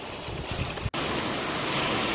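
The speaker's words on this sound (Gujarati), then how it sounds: "પવન આવી વરસાદ છે બહુ બહુ પવન છે" Steady loud rushing noise of a summer thunderstorm's strong wind and rain, broken by one brief dropout, continuous throughout.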